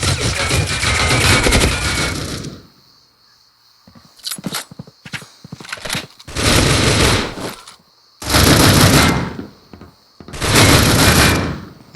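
Gunfire in the mobile shooter Critical Ops, loud close bursts of automatic fire in several separate volleys with short gaps and scattered single shots between them.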